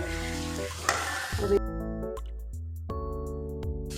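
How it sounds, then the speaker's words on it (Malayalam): Chicken filling with chili powder and chicken masala being sautéed in a pan, a soft sizzle with brief scraping stirs, partly covered by sustained tonal background music. "നമുക്കിത് വഴറ്റിയെടുക്കാം. മുളക് പൊടിയും ചിക്കൻ മസാലയും എല്ലാം കൂടി ഇട്ട് ഞാൻ ഇളക്കിയതാണ്."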